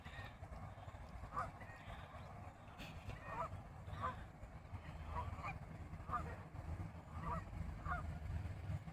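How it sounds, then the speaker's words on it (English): Geese or similar waterfowl honking in scattered, moderately distant calls by the water, over a steady low rumble of outdoor background noise. "These birds are standing their ground."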